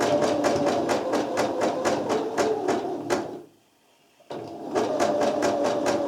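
A sewing machine runs a zigzag stitch through thick lace with a loud, rapid, even chatter that stops for about a second of near silence and then starts again at the same pace.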